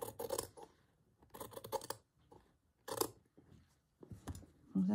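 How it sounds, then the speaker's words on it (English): Scissors trimming embroidery fabric, heard as a few short bursts of crisp snipping separated by quiet pauses, close and moderately loud with no talking. "So I'm just going to trim that a little."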